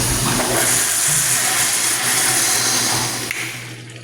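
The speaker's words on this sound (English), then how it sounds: "So the problem is excessive vibration in the wall pipe when you flush." A Sloan diaphragm urinal flushometer flushes with a loud, steady rush of water and hiss lasting several seconds, carrying a low vibrating rumble from the wall pipe before tapering off.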